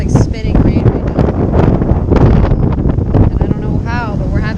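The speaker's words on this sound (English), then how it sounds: "think Tropical Storm Eta is here. And it is so windy out here." Strong wind from Tropical Storm Eta in Miami, with spitting rain, roars and buffets the microphone in heavy low rumbles while a person talks over it.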